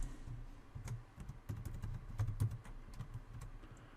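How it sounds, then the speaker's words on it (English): Fingers type a password on a computer keyboard, a quick, uneven patter of soft close keystrokes heard alone and fairly quiet. "go ahead and type in a complex password"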